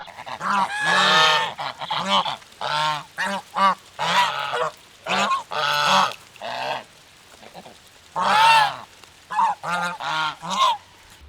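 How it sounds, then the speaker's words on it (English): Geese honk loudly and repeatedly in bursts, close by, with brief pauses between calls. "the geese actually walked all the way around the house so that they're now right behind me"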